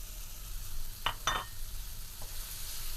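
Peas sauté in masala in a pan with a steady close sizzle, broken by a few sharp scrapes of a spoon stirring against the pan.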